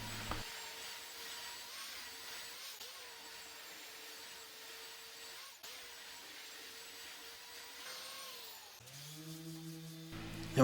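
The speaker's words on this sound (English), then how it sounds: "Then I'll use my belt sander to sand it the rest of the way flush" A belt sander runs with a steady whirring hum against a wooden picture frame, sanding it flush, then its tone shifts and winds down near the end.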